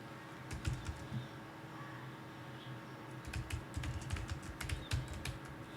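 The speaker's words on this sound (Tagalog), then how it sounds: "It's tolerable lang ang noise ng keyboard." Typing on a Logitech K380 wireless keyboard, with a quick run of soft, close key taps, a pause, then a denser burst of tapping against a hushed room.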